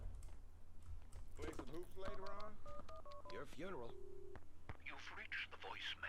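Telephone keypad tones dialed in the video game Max Payne 2, a quick run of distinct DTMF beeps in steady rhythm, close and clear, with game voices and ambient noise around them.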